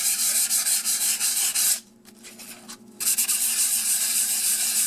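Steady rasping strokes of 600-grit wet-dry sandpaper rubbing on model rolling stock, close and continuous, with a brief pause mid-way before the sanding resumes.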